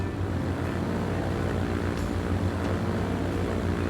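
A propeller aircraft climbs to altitude in the transport-building game Transport Fever 2, its engine a continuous, even, loud droning hum with no talk.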